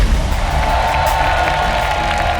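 Studio audience applauding and cheering for four panelists on a hidden-talent game show, a steady crowd wash of claps and whoops at close range.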